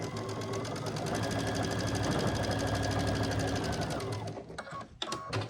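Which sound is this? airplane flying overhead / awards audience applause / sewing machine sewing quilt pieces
sewing machine sewing quilt pieces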